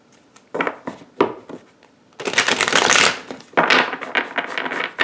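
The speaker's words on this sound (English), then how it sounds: "I'm going to give it a couple of extra shuffles just to clear the energy" Tarot cards being shuffled by hand, a few quick riffles and taps followed by two longer, louder bursts of rustling card shuffling close to the microphone, with no talking.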